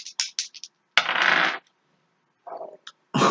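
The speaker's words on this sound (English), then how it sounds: "I rolled 2 dice then" Two dice roll and clatter across a table during a tabletop role-playing session, making quick bursts of rattling clicks and a couple of longer tumbling rolls, close and crisp, with no talking.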